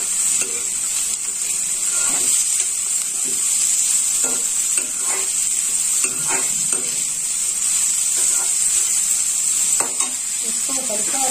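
Green chillies sautéing in a hot pan for vegetable rava upma, a bright steady sizzle with a high hiss, punctuated by repeated soft scrapes of a spoon stirring through the pan.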